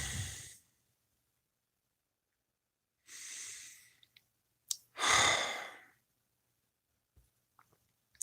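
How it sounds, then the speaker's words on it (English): Slow deep breaths taken in bed, a few soft drawn-out sighing exhales separated by silent pauses, close and quiet, with faint small rustles between them and no talk. "So let's take a couple of deep breaths, shall we?"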